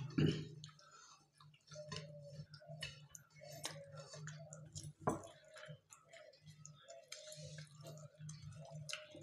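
Close, quiet chewing and soft mouth sounds while eating spicy liver and stomach curry with roti, irregular bites and smacks over a low steady hum, with brief talk at moments.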